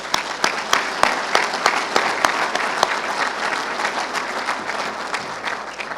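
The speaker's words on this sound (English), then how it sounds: "I'd just like to give them a round of applause" Audience applause at a water infrastructure conference in Flint, a steady wash of many hands clapping with a few sharp nearby claps standing out, sustained throughout and slowly easing.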